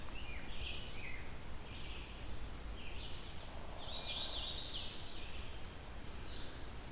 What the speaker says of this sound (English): It's a loud bird, so it may not be all that close to me.